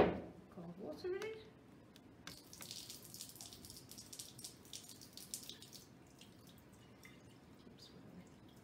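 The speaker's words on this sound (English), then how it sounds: "then run that cold water" Cold tap water runs over the outside of a laboratory flask during an aspirin preparation, a steady splashing gush with a few louder clatters near the start, fairly quiet and close.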